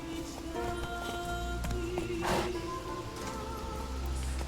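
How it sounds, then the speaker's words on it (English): In The Witcher 3 video game, a horse's hooves clip-clop in a steady rhythm against a quiet background of game music. "come on, Roach, my magic teleporting horse that can teleport across oceans and stuff."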